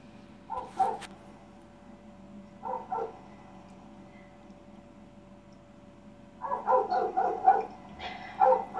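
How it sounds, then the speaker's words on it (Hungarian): Dogs barking in short bursts, a couple of isolated barks early, then a quick run of repeated barks near the end, moderately distant over a quiet background hum. "Kutyák hívogatnak ott."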